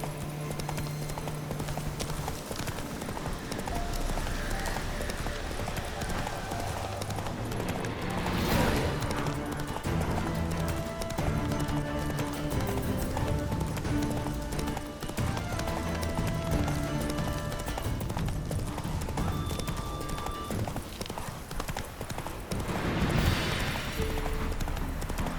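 Hooves of Roach, a horse in the video game The Witcher 3, clip-clop in a steady galloping rhythm throughout, close and fairly loud over an ongoing music score.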